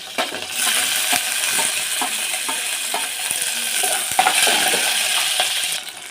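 Mustard seeds, chilies and onions fry in hot oil, a steady close sizzle broken by scraping stirs and small metallic clinks against the pan.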